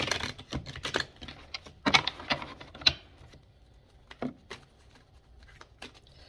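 Tarot cards are shuffled in a quiet room: soft, irregular riffling and patting clicks come in short bursts, close and faint, with pauses between them.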